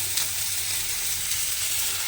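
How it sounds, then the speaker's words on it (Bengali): Ground spices frying in a pan with oil, a steady close sizzle with faint stirring scrapes and no talk. "দিয়ে একটু নাড়াচাড়া করে একটু ভাজা ভাজা মতো আমাকে করে নিতে হবে"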